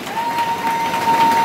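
A church congregation applauds and cheers during a French-language sermon, a steady dense wash of clapping and voices that holds at even loudness throughout, with a faint sustained tone running underneath.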